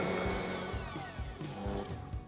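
A Bosch electric mixer running at high speed whisks brownie batter as a chocolate and butter mixture is added to beaten eggs. It gives a steady, fairly quiet motor whine with shifting pitch and no talking.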